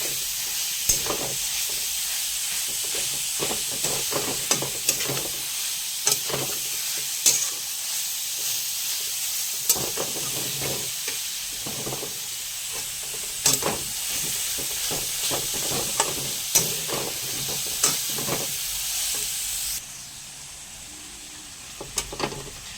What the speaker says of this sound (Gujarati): આ રીતે આપણે શેકવાનું છે ઘીમાં પહેલાં